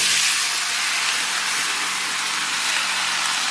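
Tomatoes hit a hot pan of translucent onions while making French tomato sauce, giving a steady, loud, broadband sizzle with a bright hiss that holds evenly throughout.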